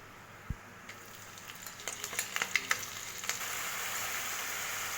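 Whole spices such as bay leaf, cardamom, cloves, cinnamon and mace frying in a pan with onion paste for jackfruit curry, giving a soft steady sizzle with a few sharp crackles and pops, heard alone at close range.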